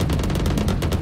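Fast automatic gunfire in a Tamil role-play video game, a loud, dense burst of about ten rapid shots with no talking over it.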